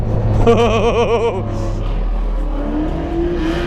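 A BEAMS-engined Toyota AE86 drifts on a wet track at night, its engine revving up and down nearby while people laugh and talk over it.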